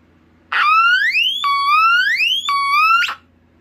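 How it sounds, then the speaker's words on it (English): A smoke alarm with a varying-frequency sounder lets out three loud, close, upward-sweeping electronic whoops in a row, each glide rising in pitch and then snapping back down, with no other sound around them. "This one has a varying frequency sounder."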